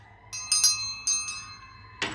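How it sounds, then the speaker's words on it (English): A small handheld bell, a regular bell used as a bluebird bell, rung to signal feeding time for live mealworms: several bright metallic rings in short bursts with ringing overtones, close and fairly loud, no talking. "they call this a bluebird bell"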